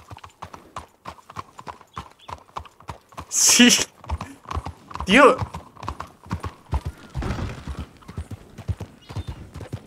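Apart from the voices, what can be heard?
horse hooves clip-clopping in a roleplay video game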